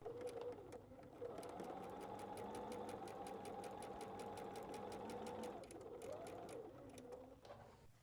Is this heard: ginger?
no